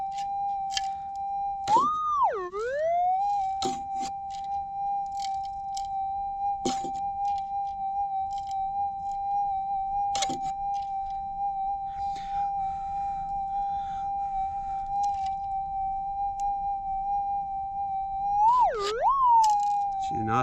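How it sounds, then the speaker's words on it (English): A metal detector held over a gold target in a Mount Magnet gold patch gives a steady, unwavering single-pitch tone that runs for about twenty seconds. Brief pitch dips and chirps occur near the start and end, over faint outdoor background noise. "I like it because it's a consistent sound and it's not changing up and down, wobbly."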